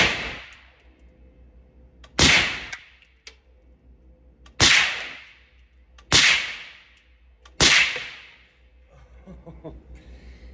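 Five sharp rifle shots from a Q Sugar Weasel firing 110 grain copper projectiles at a range, spaced about two seconds apart, each loud crack followed by a quick decay, with faint rustling after the last.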